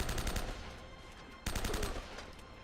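Blind-fire gunshots in Uncharted: Drake's Fortune: rapid automatic bursts of repeated shots, a pause, then another burst, loud and close over game background.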